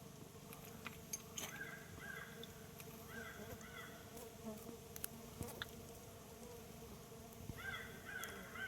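A stingless bee colony, being moved from a house, hums with a soft, continuous buzz of many small insects, with occasional sharper individual passes close by and a few faint clicks.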